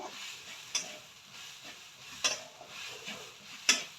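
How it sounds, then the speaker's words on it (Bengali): Coconut filling frying in a pan for dudh puli, a quiet continuous sizzle broken by three sharp spatula clinks against the pan. "একটু ভাজা ভাজা মতো হবে"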